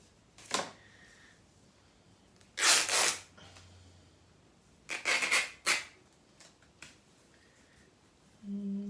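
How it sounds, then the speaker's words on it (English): Paper torn by hand into strips for gift tags, with a few short, bright ripping bursts separated by quiet gaps, plus a low hum at the very end and no talking. "I'm just going to rip it because I like that ripped effect"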